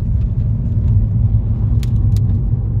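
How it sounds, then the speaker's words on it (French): A car drives past on a country road, a steady low rumble of tyres and engine at moderate distance with a couple of faint light clicks or rattles near the end. "Là, du coup, il y a une voiture qui vient de passer"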